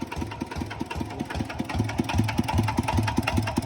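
A ZT100 motorcycle engine idles after carburetor tuning, giving a steady, rhythmic low putter with regular pulses that swell slightly louder toward the end, close by and with no talking.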